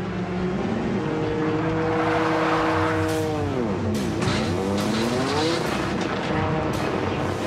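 A Mazda RX7 race car engine roars at about 230 mph on the Bonneville salt flats, its pitch sweeping down and back up as tires squeal and skid through a sideways spin.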